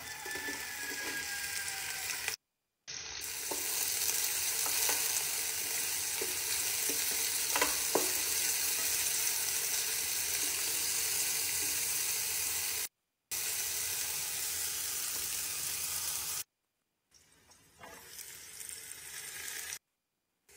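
Onions with sweet and hot peppers fry in ghee and olive oil, a steady close sizzle with stirring scrapes, broken by a few short silent gaps and a quieter stretch at the end.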